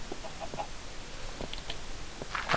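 A chicken in the Minecraft video game gives a few soft, short clucks in the background amid low ambient noise, ending in a louder burst.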